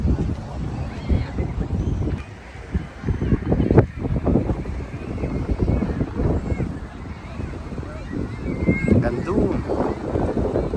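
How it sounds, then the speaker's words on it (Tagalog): Steady wind buffeting the microphone at the seaside in Galali, Muharraq, Bahrain, a low, rough rumble that gusts up and down throughout. "Medyo may hangin."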